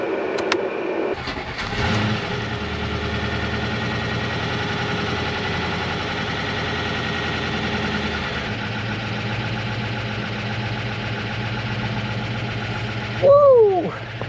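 A Range Rover 4.6 V8 with an oil-pressure fault cranks briefly and then catches, settling into a steady, close idle that holds for several seconds before a short squeal near the end.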